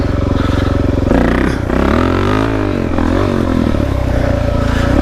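A Suzuki DR-Z dirt bike engine revs hard on a trail during wheelies, loud and close, with the pitch climbing and falling through repeated throttle blips and steady high-rpm stretches.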